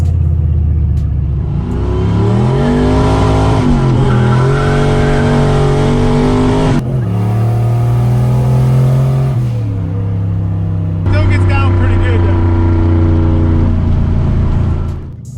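A budget turbocharged GT40 engine with no exhaust fitted revs hard and loud, rising and falling in long sustained pulls with a raw, rumbling roar that briefly dips before climbing again, close and unbroken throughout.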